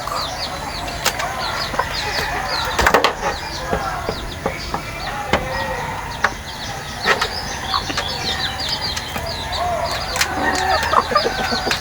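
Chickens cluck and murmur around a farmyard, with occasional wing flaps and a distant rooster, steady outdoor chatter of fowl throughout.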